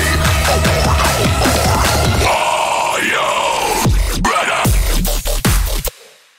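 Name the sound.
dubstep build-up with metal screamo vocal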